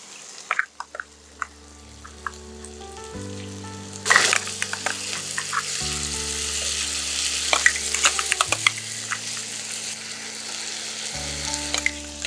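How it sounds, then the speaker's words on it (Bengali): Red arrabbiata sauce is poured onto chicken frying in a pan for penne. A steady close sizzle crackles and spatters, with a sharp burst as the sauce hits, over soft background music. "এবারে সসটা দিয়ে দিচ্ছি।"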